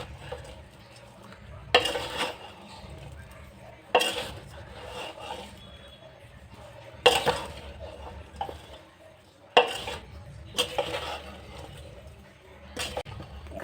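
Pickle spices being stirred together in a bowl or pan, heard as bursts of scraping and clinking strokes a few seconds apart, close and fairly loud, with quieter pauses between them.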